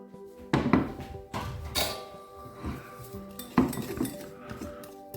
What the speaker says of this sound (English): We'll give this a good mix up.